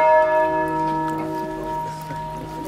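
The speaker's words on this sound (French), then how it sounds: "cloche du patron de la paroisse" The patron saint's bell of the parish church of Marsal, France, rings once and its rich tone hangs and slowly fades, clear and resonant with a little background noise.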